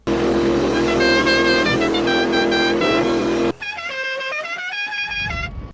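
A car horn blares a tune, sustained musical notes stepping through a melody, then a second horn passage with different pitches plays on alone.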